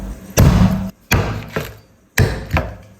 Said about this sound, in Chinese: 先剁鱼头